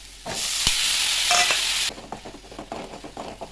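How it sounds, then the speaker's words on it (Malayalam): Onion and curry leaves frying in hot coconut oil for a fish curry, a loud steady sizzle with a sharp crackle, then dropping to softer, uneven spitting and stirring scrapes near the end; no talking. "കറിവേപ്പില ഇട്ട് കൊടുക്കട്ടെ."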